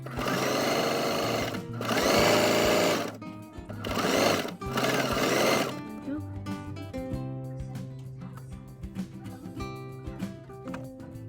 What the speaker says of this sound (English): I'm going to stitch a little bit before I pull it tight.